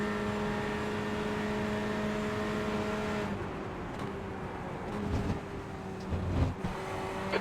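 Race car engines from the sim racing game iRacing drone steadily with multiple cars nearby, holding a sustained tone that shifts midway as the engine note changes, with brief louder bursts toward the end.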